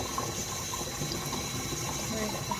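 Water runs steadily from a household tap in a continuous, even rush, close and moderately loud, with no talk over it.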